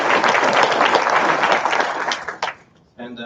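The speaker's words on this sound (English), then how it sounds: "Let's give them all a round of applause" At an SNCO induction ceremony, a crowd gives a loud, dense round of applause that thins out and dies away, then a person begins speaking.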